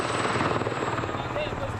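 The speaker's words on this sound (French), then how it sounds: "Il y a aussi des hélicoptères, prêts à faire feu." A military helicopter armed and ready to fire during a French Foreign Legion field exercise gives a loud, steady rotor thrum throughout the short stretch.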